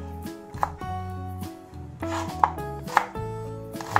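Close, sharp knife strikes on a cutting board while white onion is chopped for kinilaw na balantyong: several irregular chops, a few louder than others, over a faint background hum and no talking.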